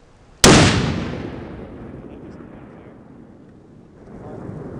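A single .50 caliber sniper rifle shot fired outdoors cracks sharply and loudly up close, then rolls away in a long, fading boom with wind noise behind it.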